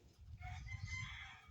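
A pigeon in a loft gives a continuous low, throaty cooing rumble lasting over a second, fairly close, with a brighter raspy overtone running above it and no talk.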